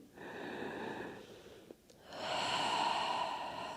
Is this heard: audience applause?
no